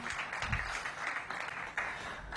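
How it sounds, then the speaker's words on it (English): An audience claps for a group of girls at a school event at the Cardozo Education Campus, a short burst of broadband clapping that swells and dips over about two seconds. "Give the girls a big round of applause."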